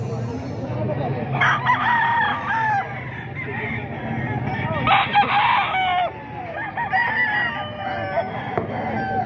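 Several roosters crow at a chicken market selling gamefowl, loud drawn-out cock-a-doodle-doos rising at intervals over clucking and a background murmur of voices.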